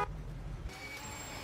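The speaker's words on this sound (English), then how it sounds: "Okay, now honk your horn." A car horn honks in the Mafia 2 video game while the car is parked in front of a garage door, a steady held tone over low engine rumble, close and clear.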